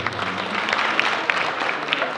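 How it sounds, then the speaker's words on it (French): Brief, dense applause from a crowd at a fashion night stage event, steady and fairly loud throughout. "Applaudissez vous-même"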